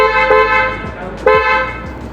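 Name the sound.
aftermarket car horn honking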